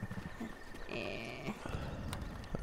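A horse in the video game Breath of the Wild, its hooves clip-clopping in a steady rhythm with a brief whinny, mixed with game ambience.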